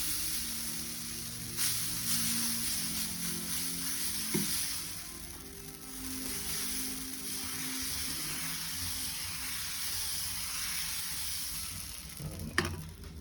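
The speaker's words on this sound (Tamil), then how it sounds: "இப்போ தோசை ஊற்றி காமிச்சேன்" Green gram dosa batter poured onto a hot pan, a steady close sizzle lasting throughout with a few soft clicks and scrapes of utensils, and no speech.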